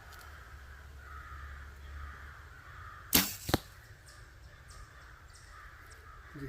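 Archery bow loosing an arrow outdoors: one sharp, loud twang-crack with a quick second snap right after, an odd extra noise from the bow, over faint background crow caws.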